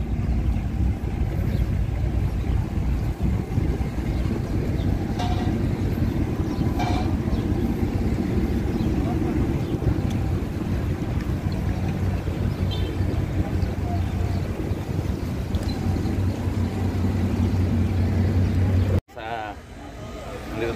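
A yacht sets off on a blue sea in Turkey, its engine droning as a steady low rumble with a loud wash of wind and water, continuous until a sudden drop near the end.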